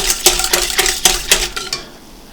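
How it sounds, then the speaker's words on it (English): A whisk beating yeast into sugar water in a bowl for cheese bread dough, six or so quick rhythmic scraping strokes up close, then fading to quiet. "Then I'm going to add in the yeast. And I'm just going to whisk that in."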